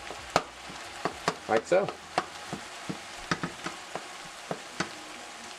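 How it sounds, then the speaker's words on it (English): Ground beef sizzling and crackling in a pan for a hamburger casserole, with repeated scrapes and taps of a utensil breaking it up and turning it; a brief spoken remark over the frying. "Break this meat up and turn it over."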